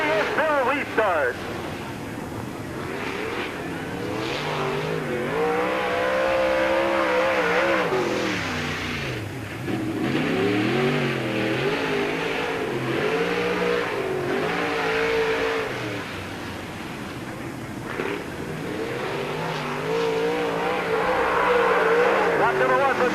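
Race car number 73 laps Peoria Speedway, a 1997 Busch 100 event, its engine revving and rising and falling in pitch as it circles the oval, loud and continuous, with an announcer's voice over it.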